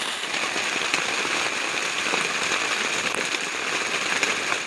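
Heavy rain pours steadily on a forest camp shelter beside a swamp, a dense, continuous hiss with crackling patter from drops striking close surfaces, loud and unbroken throughout with no voices.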